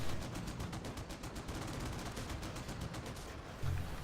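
Rapid, continuous gunfire from a video game tank battle, a dense stream of evenly spaced shots with a slightly louder burst near the end, no speech.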